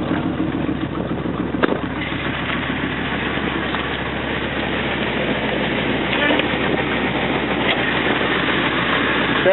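A 2000 Ford F250 XLT's Triton 6.8 liter V10 idles smoothly with the hood open, a steady, even rumble heard up close throughout without changes in pace.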